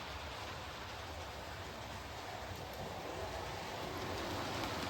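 Two Pacific locomotives run on a model railway layout, giving a steady, even rolling rush that holds at the same moderate level throughout without pause or voices.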